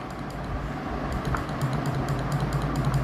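An old single-key telegraph machine, not fully working, gives off faint light clicks and taps at an uneven pace over a steady low background hum.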